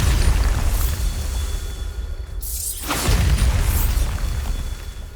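A Bombarda spell in Hogwarts Legacy goes off with a deep, booming blast and a sweeping whoosh that rises out of a low, constant rumble, then settles back into the rumble.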